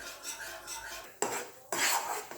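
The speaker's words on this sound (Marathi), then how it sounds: "एक दोन मिनिट आपल्याला याला फक्त हलवायचं" A spoon scraping and clanking against a pan while a sweet pedha mixture is stirred, soft scraping followed by two sharper metallic knocks, close and fairly quiet.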